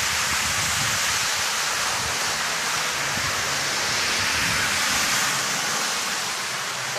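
Heavy rain pours down in Tapachula, a dense, continuous roar of water that stays loud and even throughout with no voices over it.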